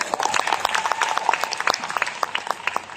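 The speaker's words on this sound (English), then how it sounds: "Can you please give Coach Raymond a round of applause?" Audience applause at a business presentation, a steady patter of many hands clapping at moderate loudness with no speech over it.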